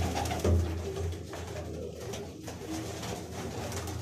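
Racing pigeon cooing close by, soft low throaty coos repeating under faint room ambience with no voices.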